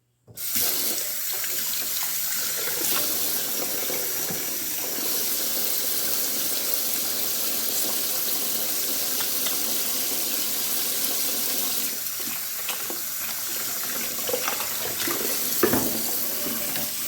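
Water running steadily from a kitchen tap into a sink while rinsing during stew cooking, a continuous close splashing hiss for about seventeen seconds with small shifts as the item moves under the stream.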